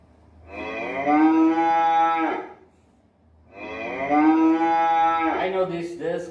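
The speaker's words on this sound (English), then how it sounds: "I know this. This cow." A cow moos twice, loud and close: two long, drawn-out lowing calls, each about two seconds, separated by a short pause, with no other sounds.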